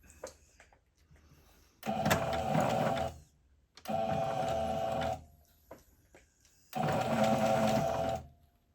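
Home sewing machine stitching a knit T-shirt seam, three loud motor bursts of running stitches including a short back stitch to secure, separated by brief pauses, close and alone.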